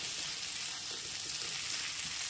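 Vegetables with salt being stir-fried for egg chowmein make a steady, faint sizzle with soft stirring scrapes, no voices.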